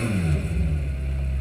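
A McLaren Senna engine in Forza Horizon 4 drones in a steady, loud mechanical tone, with the pitch dipping slightly and then holding, heard alone without talk.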